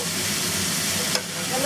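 Pork chops fry in a pan with sage, garlic and lemon, giving a steady close sizzle with a brief sharper crackle burst near the end.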